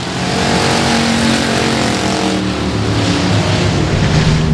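A bootlegger-class dirt track race car at Boothill Speedway, its engine a loud, sustained roar that holds steady and close throughout.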